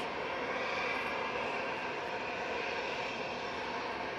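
Airliner jet engines roaring steadily at an airport during plane spotting, a broad, continuous rumble that holds at an even level throughout with no voices.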